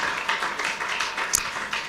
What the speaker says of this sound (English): You are not clapping, I say clap for him.